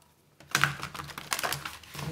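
Tarot cards riffled and shuffled by hand, a soft start followed by bursts of quick papery flicks and taps in an uneven rhythm, close and fairly faint, with no talking.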